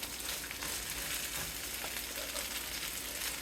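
Cold rice frying in a pan for pork fried rice, a steady, fairly quiet sizzle and crackle with faint stirring, with no one speaking.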